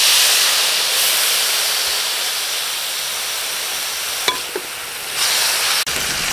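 Sisig with shrimp paste and vinegar stirred in a hot pan, giving a loud, continuous sizzling hiss of steam close by, with a couple of faint clicks of a utensil near the end and no talking.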